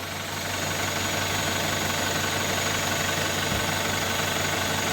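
A loud, steady tractor engine drone with a mower attached, a rough, rattling mechanical texture, running continuously without pause.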